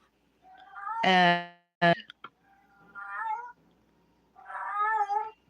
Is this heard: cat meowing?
yes